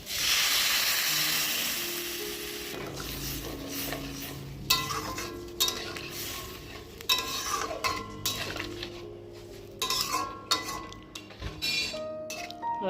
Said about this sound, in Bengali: কষানো শেষ এখন ঝোল দিয়ে দিলাম